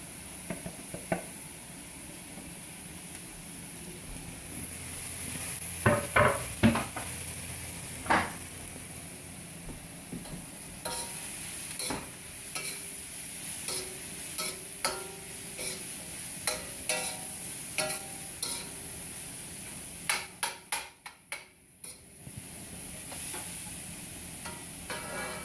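Broccoli, cauliflower and zucchini sizzle steadily in a pan, with intermittent scraping and clattering as the vegetables are stirred, the frying hiss continuing alone throughout.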